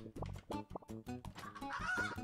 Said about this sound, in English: Oh my god, it's a pig! And chickens!